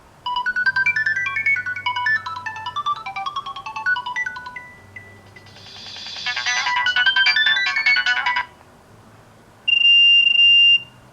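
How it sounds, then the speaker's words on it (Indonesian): Loud "Drill" ringtone from a Nokia 7610 phone, starting as a busy run of fast synthetic melodic notes, then swelling into a harsh, dense buzzing burst, a brief pause, and a final piercing steady beep, with no voices. "Nah ini nada derinya yang bikin kuping pengang nih guys ya. Drill."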